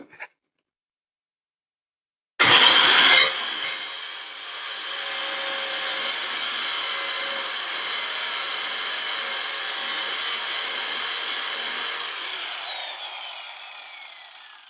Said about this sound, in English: Yeah, I got a lot of grinding to do.